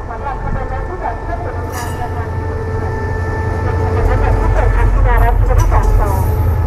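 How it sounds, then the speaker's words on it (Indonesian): A special express train, number 45 or 46 from Padang Besar, pulls into Hat Yai Junction station in Thailand with a steady low rumble and rising engine drone, squeals and clanks near the end, while people talk over it. "Ini dia kereta spesial ekspres nomor 46"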